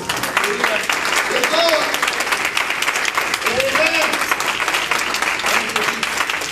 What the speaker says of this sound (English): Give Lord a hand clap for His word.